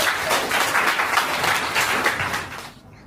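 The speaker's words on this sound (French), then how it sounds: "Applaudissez pour vous-même" A conference audience in Cotonou clapping for themselves, with loud, dense applause from a large room that carries on steadily and then tapers off at the end.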